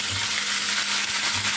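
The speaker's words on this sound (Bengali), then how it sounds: "ওদিকে আমার রোস্টটা ভাজা হয়ে যাচ্ছে।" Pieces of shahi roast fry in a pan with a steady, close sizzle that stays even and unbroken throughout, with no talking.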